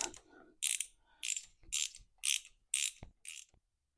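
A bolt turned with a ratchet on the starter of a Kubota T1870 tractor with a Kawasaki engine, giving six or seven crisp ratcheting bursts in a steady rhythm, close and fairly quiet, with a couple of sharp knocks near the end.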